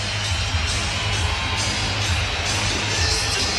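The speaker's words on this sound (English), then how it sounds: "Here in the stand is quite a roar from the crowd as Lagesson takes his helmet off" A big arena crowd at an NHL hockey game between the Ottawa Senators and the Toronto Maple Leafs roars loud and sustained, with a dense wash of cheering and shouts rising and falling throughout.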